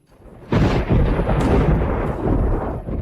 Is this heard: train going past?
no